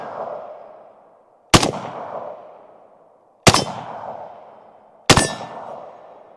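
Three sharp AK rifle shots ring out against a steel plate target on an outdoor range, each a loud crack with a bright metallic ring that decays slowly, spaced about two seconds apart with no talking.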